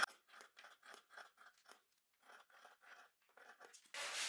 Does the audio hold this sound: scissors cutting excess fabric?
yes